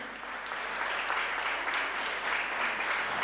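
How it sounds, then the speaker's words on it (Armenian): Loud, dense applause fills an awards ceremony hall, steady and sustained throughout with no pauses. "Ձեր բուռն ծափարությունները"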